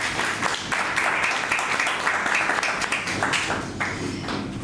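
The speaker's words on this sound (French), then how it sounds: "Vous pouvez l'applaudir." An audience applauds a guest at a talk in Orléans, a steady dense wash of clapping that carries on without a break and with no voices over it.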